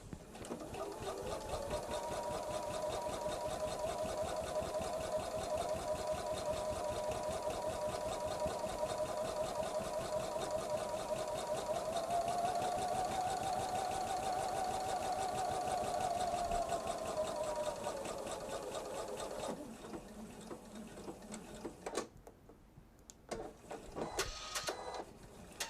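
A sewing machine stitches quilt fabric for a jelly roll bag, a steady fast mechanical whir with a faint tonal hum that runs continuously before slowing and stopping near the end.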